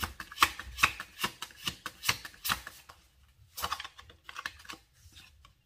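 A deck of fortune-telling cards is shuffled and drawn during a reading. Rapid, rhythmic flicking and riffling snaps come close together, followed by a brief lull and then softer, scattered card slaps.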